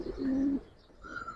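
A pigeon of the Giribaz or coloured breed coos once in a low, steady call, close and clear, then fades into quieter background with a faint higher tone near the end.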